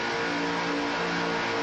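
IROC race cars from the 1993 IROC XVII series run three abreast on track, a dense, steady roar of engines heard at a distance and fairly quiet, without commentary over it.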